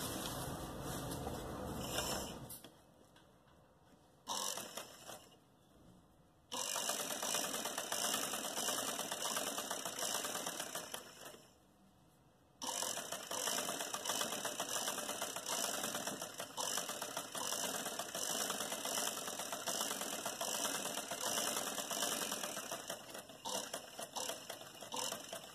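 An electric sewing machine stitches lace onto an umbrella-style bell sleeve, its steady mechanical whir running in long bursts broken by a few short pauses, close and fairly loud with no talking.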